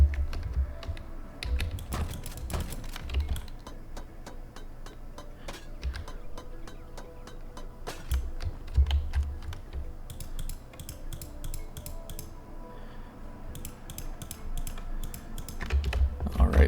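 Rapid mouse clicks fire a weapon in the game Farworld Pioneers, sharp close-up taps arriving in quick irregular bursts with short pauses between them, alone without talk.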